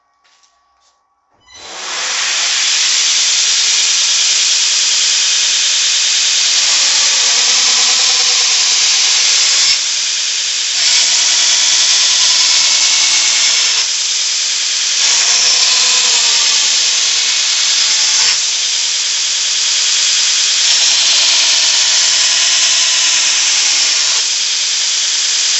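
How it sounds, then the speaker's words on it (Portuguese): A knife blade is worked with 400-grit sandpaper, giving a loud, continuous abrasive hiss that runs almost the whole length after a brief quiet start, with small rhythmic variations in the strokes. "agora com a lixa 400."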